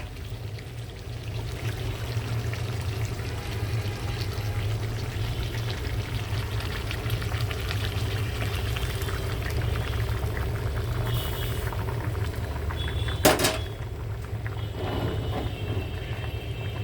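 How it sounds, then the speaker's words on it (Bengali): Hot water poured from the stove into a cooking pan, a steady close rushing and sizzling wash that runs on for many seconds with a brief clatter near the end. "এখন পানি দিয়ে দেবো।"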